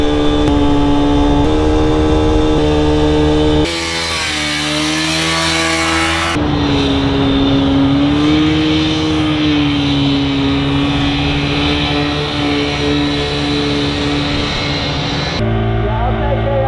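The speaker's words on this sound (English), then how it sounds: "I've been redlining this motorcycle for the past 30 minutes" A motorcycle engine held at redline during a torture test runs as a loud, sustained high-revving whine, with pitch shifts and brief dips.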